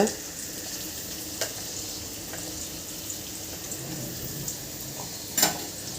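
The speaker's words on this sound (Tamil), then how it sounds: "இப்போ நான் வந்துட்டு இதில் வெங்காயம் போட்டுக்கிறேன்" Onions sizzle steadily in a pan at the start of a mutton kulambu, a constant frying hiss broken by a couple of brief clinks from the utensil.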